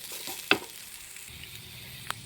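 Ingredients for a Kerala chammanthi chutney fry in a pan with a quiet, steady sizzle, broken by one sharp scrape of a stirring spoon and a faint later tap.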